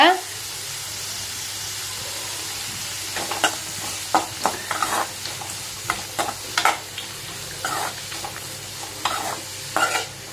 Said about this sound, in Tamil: கேரட் பீன்ஸும் நல்லா வந்துட்டு வதங்கட்டும்